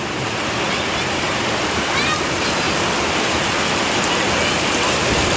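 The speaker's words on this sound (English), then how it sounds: "Oh man, it is pouring" Heavy rain pours down in a dense, constant roar of water, loud and unbroken throughout, like standing beneath a torrent.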